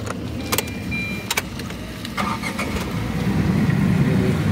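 A Tata Tiago XZA Plus AMT is started with a key: a few sharp clicks and jingles come first, then the engine catches and settles into a steady, close idle hum.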